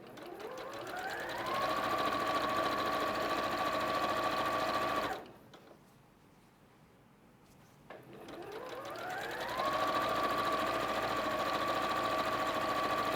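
A sewing machine runs up to speed and stitches quilt fabric in two long, steady whirring runs close by, separated by a short quiet pause around the middle.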